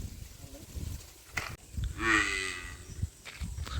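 A buffalo moos in a stable housing several buffaloes, giving one drawn-out, fairly close low call over a quiet background with faint rustling.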